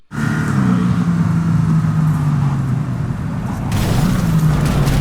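A Rayfield Aerondight car driving in the video game Cyberpunk 2077, a steady loud engine drone with a rising and falling pitch as it accelerates, running continuously.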